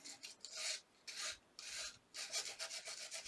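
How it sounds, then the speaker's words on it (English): Sandpaper rubbed lightly over a 3D art piece in a series of short rasping strokes, close and fairly quiet, each scrape lasting about half a second with brief pauses between. "you need some sandpaper so you can sand this down"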